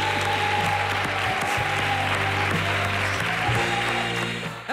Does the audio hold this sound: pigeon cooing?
no